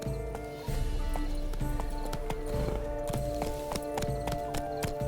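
Horse hooves clip-clop at a steady trot in The Witcher 3, loud and close, over a continuous in-game music and ambience bed.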